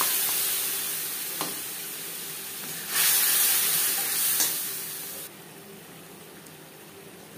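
Spice paste frying in oil in a pan after panch phoron and bay leaves, for a low-oil potato and cauliflower dish: a steady close sizzle and hiss with stirring, growing louder briefly in the middle and then settling quieter.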